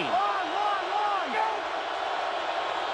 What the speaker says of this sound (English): And Fitzpatrick fighting the crowd.